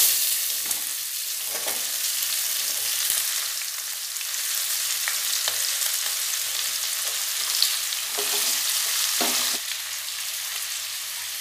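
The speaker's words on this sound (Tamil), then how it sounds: "பல்லாரி பார்த்திங்கன்னா கண்ணாடி பதம் வர அளவுக்கு கொடுத்து நம்ம வந்து பல்லாரி வந்து நல்லா வதக்கிக்கிடணும்." Onions frying and being stirred in a pan for tomato kurma, a steady close sizzle with occasional scraping stirs and no talking.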